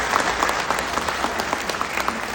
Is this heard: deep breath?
no